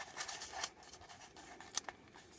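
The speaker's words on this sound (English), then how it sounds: "So fold down the corners" Paper being folded at the corners, with soft crinkles and a few sharp creasing snaps close by, the loudest near the middle and end, with no voices.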